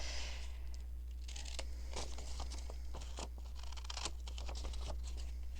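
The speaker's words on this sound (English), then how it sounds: "bigger scissors will be better." Scissors snip through paper in a quick series of crisp cuts, close and fairly loud over a steady low hum.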